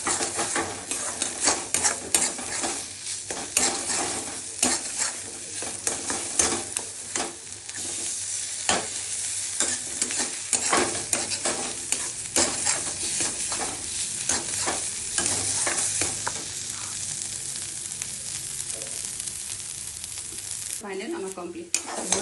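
Potol chingri bata, a paste of pointed gourd and shrimp, is stirred and scraped in a hot pan, with a steady loud sizzle broken by dense clattering spoon strokes, close up and without talk.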